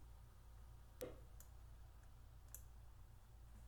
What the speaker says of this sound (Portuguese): vou dar 2 cliques